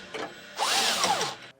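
Power tool spinning a 15mm socket on an end link bolt of a Hellwig front anti-sway bar on a 2019 Ford F-53, a close whirring burst of about a second with a rising and falling tone.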